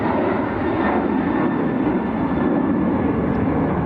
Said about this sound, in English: There's Ryanair to Faro